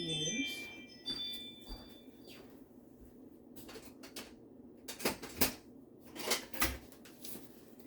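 A spatula scraping thick spicy coleslaw dressing out of a container, giving quiet, intermittent scrapes and then a cluster of sharper scratchy strokes near the end, with soft speech in between.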